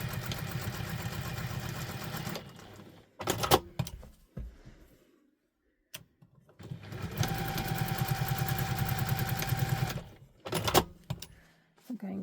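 A sewing machine stitches across the edge of wallet fabric in two sustained bursts of rapid, even whirring, separated by short handling noises and a quiet pause.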